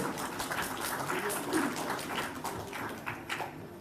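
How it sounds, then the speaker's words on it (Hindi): Audience applause at an award ceremony in Jharkhand honouring top intermediate commerce students: a steady wash of many hands clapping, moderately distant and sustained throughout with no pause. "तालियां कमी ना करें तालियों में।"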